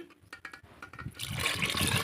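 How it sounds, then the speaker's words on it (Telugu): Water is poured into mashed dal for a mango dal, after a few light clinks. A close, continuous splashing gush fills the final second. "ఇప్పుడు మనం దాంట్లో తగినన్ని వాటర్ పోసుకోవాలండి."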